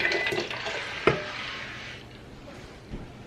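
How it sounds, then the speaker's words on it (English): Cooled lemonade syrup is poured into a pitcher, a splashing liquid stream with a sharp clink partway through, fading to quieter trickling. "Now this is cooled down enough that I can pour it into my pitcher here."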